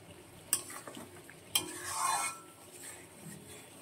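Chutney sautéed and stirred in a pan, with a soft sizzle under two sharp spoon scrapes against the pan and quieter stirring between them, close and alone.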